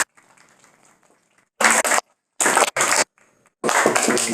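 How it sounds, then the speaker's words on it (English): Audience applause at a 4th grade speech contest ceremony, with clapping breaking out in loud, close bursts separated by short quiet gaps. "let's give them another round of applause"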